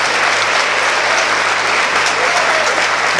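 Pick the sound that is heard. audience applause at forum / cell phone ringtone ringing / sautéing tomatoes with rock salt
audience applause at forum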